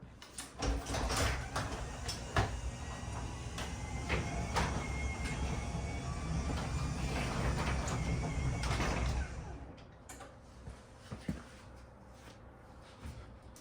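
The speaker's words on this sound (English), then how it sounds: "And we'll open the garage door." A garage door opens in a house with a fire sprinkler system. It makes a loud, continuous mechanical rumble with clanks for about nine seconds, then stops abruptly, followed by a few faint knocks.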